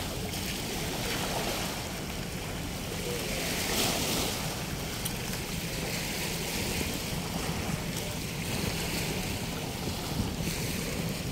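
Seaside surf at Manila Bay in the afternoon rolls constantly under strong gusting wind buffeting the microphone, a dense, even roar with no pauses.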